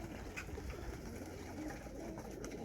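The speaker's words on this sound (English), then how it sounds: "Like to spend a few hours with the young birds, see how the young birds behave" Young racing pigeons coo softly in a loft, a steady low murmur of overlapping calls at moderate distance with faint background rustle.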